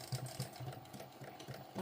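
Domestic sewing machine stitching zippers onto a fabric sling pouch, a close, steady mechanical whir with a repeating needle rhythm and faint rattling pulses, running alone without talk.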